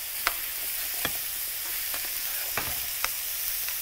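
Barberries fry and crackle in a pan of oil, a steady close sizzle punctuated by a few sharp spoon taps as they are stirred, with no speech.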